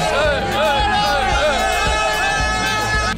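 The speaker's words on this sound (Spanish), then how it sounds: "la gente aplaude porque aquí hay mucho madridista en Elche, hay un ruido infernal" Crowd of football fans in Elche making a loud, continuous roar of cheering and clapping as the Real Madrid team bus arrives, with chatter and babble mixed into the din.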